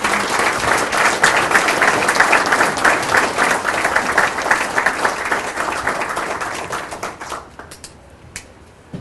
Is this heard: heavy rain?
no